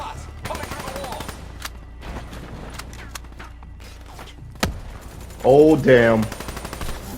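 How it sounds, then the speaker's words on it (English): Rapid gunfire from Call of Duty Black Ops 2 plays in brief bursts throughout, with a louder burst near the end, while someone talks over the game sounds. "Again, I'm shooting teammates."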